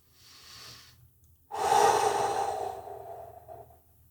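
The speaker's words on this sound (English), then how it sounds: "Make sure you're breathing." Slow, audible breaths during a kids' karate exercise: a soft inhale, a brief pause, then a longer, louder exhale that fades gradually, close to the microphone.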